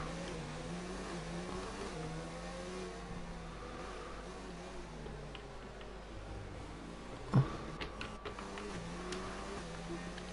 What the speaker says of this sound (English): I don't know why people are revving up like it's the start of the blooming race.